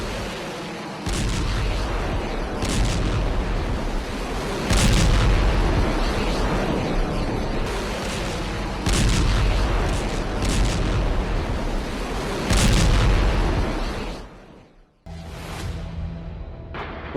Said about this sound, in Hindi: जिस बम से धमाके से गाजा धुआं धुआं हो रहा है, दावा है ये फास्फोरस बम है